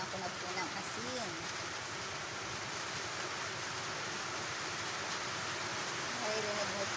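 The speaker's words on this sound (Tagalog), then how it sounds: "Rinig mo po ba ang lakas ng ulan, diba?" Heavy rain falling outdoors during a rainstorm, a dense steady hiss and patter throughout, with a voice talking faintly underneath at the start and end.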